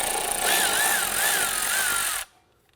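A power tool fitted with a 10mm socket spins off nuts and bolts on the front suspension of a 2004-2008 Acura TL during a lower ball joint replacement. It gives a loud, steady whirring whine with a wavering pitch that cuts off abruptly near the end.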